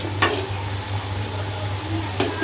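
Moong dal pakoras frying in hot oil with a steady sizzle, while a spoon stirs and scrapes the pan in a few sharp clinks over a constant low hum.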